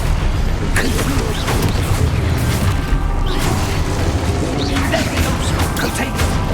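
Confringo blasting spell explosions in Hogwarts Legacy, a string of loud booming blasts and crashes repeating through a dense, continuous stretch of game combat noise.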